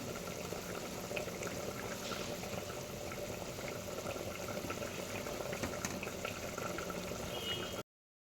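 Jaggery syrup for coconut laddu boils in a pan with a steady, dense bubbling and hiss, continuous and fairly faint, with no talk.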